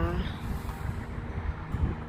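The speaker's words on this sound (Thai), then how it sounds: "อันนี้เผอิญว่ามีลม ลมแรง" Strong, cold wind buffets a microphone outdoors near a primary school in Sweden at 8 degrees, a loud, continuous low rumble with gusty swells, while someone talks over it.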